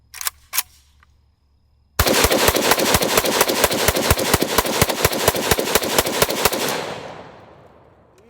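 AK-47 firing 20 rounds of 7.62x39 smokeless powder full metal jacket ammunition, a rapid close, loud string of about twenty evenly spaced shots after a couple of handling clicks, ending in a fading echo.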